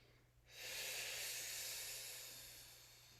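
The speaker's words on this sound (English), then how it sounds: "We're breathing." A long, steady breath out during a Pilates spinal mobility exercise, close and breathy, swelling quickly and then slowly fading under a faint low hum.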